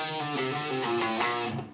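A short, quick run of plucked guitar notes moving up and down, played clearly and alone with no talking.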